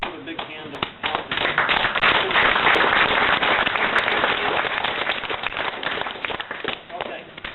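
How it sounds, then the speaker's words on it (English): Audience applause at CGEUK 2005, a games industry event: dense, sustained clapping from a crowd that swells after the first second, holds steady for several seconds, then starts to thin out near the end. "let's give a big hand of applause"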